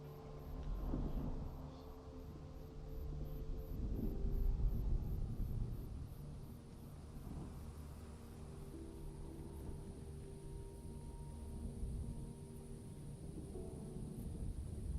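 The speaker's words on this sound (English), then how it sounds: "There's the storm coming." Rumbling thunder of an approaching storm in the game Dune Awakening, a low, rolling roar swelling and fading over a continuous hiss, fairly quiet with no talking.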